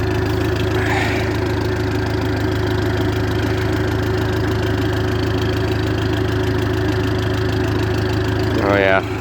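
Massey Ferguson MF30 backhoe loader with a gasoline Perkins 4.212 engine idling cold on a freezing day, a steady, even low rumble that holds throughout, with a brief voice near the end.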